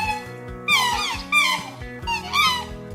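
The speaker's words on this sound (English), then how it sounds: "Swans are usually quiet, but they can make soft honking sounds when they're excited or want to communicate." Swans giving soft honking calls, a few nasal bursts in quick succession with short pauses, fairly close and clear.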